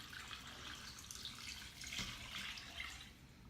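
Water poured into a pot of hamburger vegetable soup with ground beef, onion and carrots, a steady close splashing pour with no talk.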